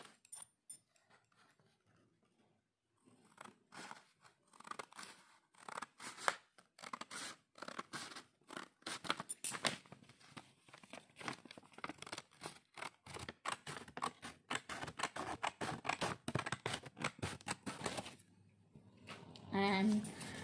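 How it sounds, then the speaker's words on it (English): Scissors snip through green craft paper in a steady run of short crisp cuts for a nursery snake-making activity, close and dry, beginning after a few quiet seconds and continuing nearly nonstop. "Now I am taking this green color paper and I am cut it again."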